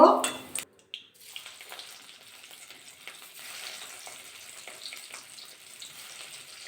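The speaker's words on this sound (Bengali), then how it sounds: "বাকিগুলো ঠিক এবার ভাজা করে নেব" Cauliflower pieces frying in oil in a wok: a loud burst of sizzle at the start, then a steady, softer crackling hiss that carries on throughout.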